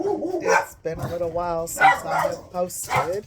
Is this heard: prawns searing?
no